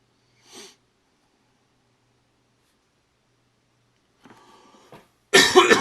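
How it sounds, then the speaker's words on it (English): A short muffled cough, a few seconds of quiet, a faint throaty sound, then a loud burst of coughing at the very end. "I could probably edit out all these coughs and everything"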